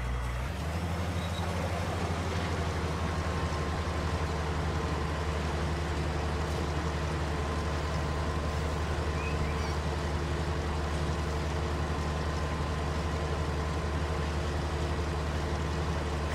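Tractor engine in Farming Simulator 19 running steadily: a constant low, droning hum with a broad noisy rumble, unbroken throughout and fairly loud.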